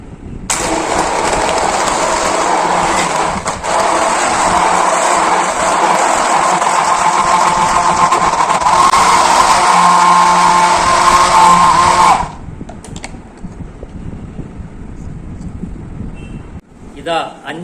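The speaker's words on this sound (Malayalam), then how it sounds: "എന്നിട്ട് നമുക്ക് ഈ ബ്ലെൻഡർ നല്ലവണ്ണം മിക്സ് ചെയ്തെടുക്കാം" Blender whirring loudly and steadily for about twelve seconds as it crushes ice and two bananas into a smoothie, then cutting off to quieter room sound.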